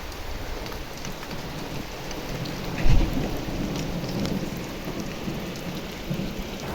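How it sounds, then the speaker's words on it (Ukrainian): Steady rain patters across surfaces with a soft, continuous hiss, and a low rumble of thunder swells briefly partway through. "Гарний дощ такий пустився."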